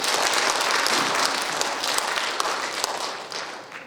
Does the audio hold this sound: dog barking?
no